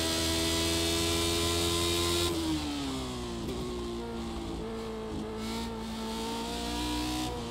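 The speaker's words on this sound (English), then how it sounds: "Normally I shift down into third on the engine." Lotus 79 racing car engine at Spa in a racing video game, a steady loud engine drone that dips in pitch as it shifts down, then holds a sustained high revving note throughout.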